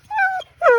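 Dogs at a ranch giving two close, loud whining yips in quick succession, each under half a second.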